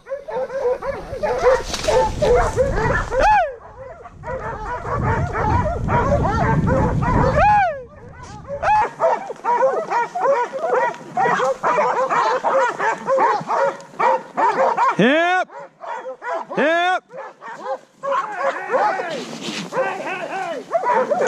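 Several dogs on a cattle-catching ranch bark and yip excitedly, their loud, close calls overlapping almost without pause throughout.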